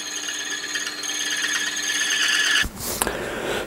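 Metal being cut on a Warco WM 180 lathe with a radius cutter attachment at a 13 mil depth, a steady whining cut with tonal ringing that breaks off abruptly near the end into a short, rougher scrape.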